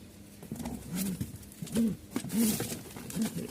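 Pigeons, Giribaz and Beauty pairs bound from Mirpur-1, Dhaka, being packed for delivery, coo in several soft, rounded low bursts at close range amid handling rustle.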